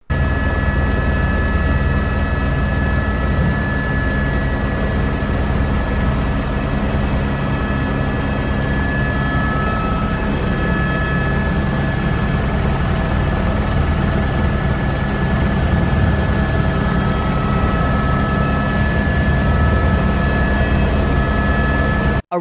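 A helicopter's engine and rotor drone steadily and loudly throughout, an unbroken mechanical hum with a constant high whine.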